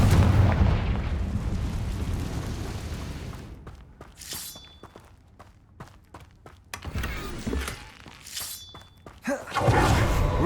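A Confringo fire spell in the video game Hogwarts Legacy bursts with heavy booming blasts, a loud rumbling impact fading into crackling debris, followed by several sharp cracks and another deep blast near the end.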